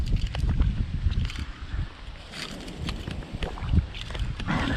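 Cold wind gusts outdoors at a shoreline spot in Sandy Point State Park, buffeting the microphone with steady low rumble and occasional rustles and knocks, with no talking.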